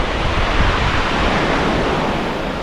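Ocean surf at Kata Beach in Phuket, Thailand, where a point partly blocks the swell, heard as a steady, loud wash of breaking waves with wind rushing across the microphone and no voices.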